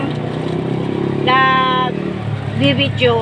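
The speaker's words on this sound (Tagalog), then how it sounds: "Napakaingay. Ayan, kasi nasa tabing highway." Steady roadside highway traffic rumbles beside a talking voice, with a motorcycle-like engine passing and a brief bright, horn-like tone standing out midway; the vehicle noise stays constant and fairly loud beneath the speech.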